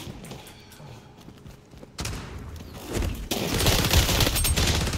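Heavy automatic gunfire from the video game XDefiant, growing from a muffled rattle into loud, continuous volleys with thuds and explosions in a chaotic firefight.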